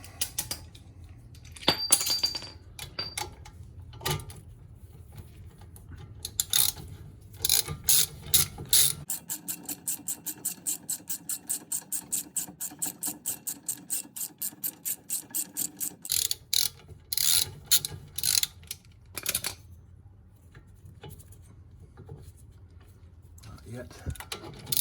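A ratchet clicks rapidly in long, even runs while loosening a front brake caliper bolt on a Porsche Boxster S, close and loud, with someone talking between the turns.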